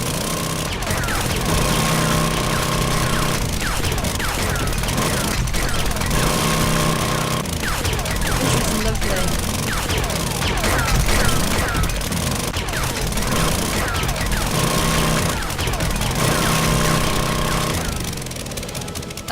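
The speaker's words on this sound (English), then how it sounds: "Let's fire the auger up, because I don't think you've seen me using this auger yet." A motorized auger grinding through stone in the survival game 7 Days to Die, a loud, continuous rattling drone with repeated chipping bursts that cycle on and off over nearly twenty seconds, with someone talking over it.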